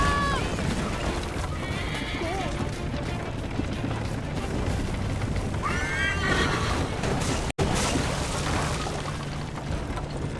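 Several horse whinnies rise over a chaotic rumble of galloping hooves and crashing noise, with shouting voices in the mix, from the video game Assassin's Creed Liberation.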